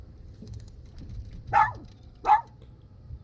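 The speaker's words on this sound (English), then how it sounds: "Once Cassie starts barking, that's when they hit." Cassie the dog gives two short barks on a boat while drift fishing the Lower Laguna Madre, fairly close over a low steady hum of wind and water.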